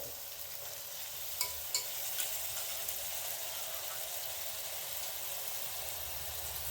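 Soaked mixed lentils added to a hot pan for pongal and stirred, producing a soft continuous sizzle with a few light scraping clicks, close and without talk.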